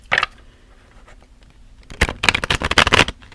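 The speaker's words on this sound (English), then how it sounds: "Right now I'm shuffling our cat tarot." A deck of cat-themed tarot cards being shuffled close up: one brief riffle, a pause, then a burst of rapid crisp card flicks and slaps.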